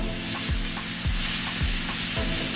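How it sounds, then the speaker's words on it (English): Vegetables with soy sauce sauté in a pan, giving a loud continuous sizzle with rhythmic stirring scrapes about every half second, close and with no talk. "so let that saute a little bit"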